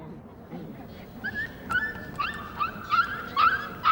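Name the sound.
puppy adopted by a male baboon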